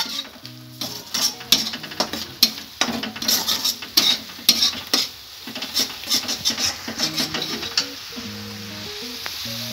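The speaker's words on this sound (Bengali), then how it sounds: "এগুলোকে ভালো করে কষিয়ে নেব।" Whole spices and Kashmiri chilli powder stir-fried in a hot pan, a steady close sizzle broken by repeated scraping and clanking of a spoon against the metal, with no talk.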